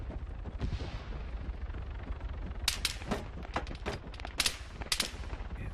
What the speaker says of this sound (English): we're attracting too much gunfire from snipers and DMRs